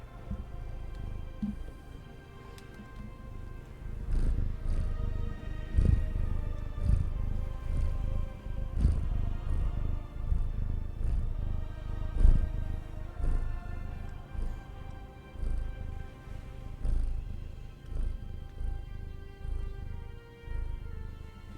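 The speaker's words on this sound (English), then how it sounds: "I hope you're able to at least hear his purrs a little bit." A small 8-pound cat purrs quietly and steadily in a low, rumbling rhythm that continues throughout, faint and close to the microphone with soft background noise.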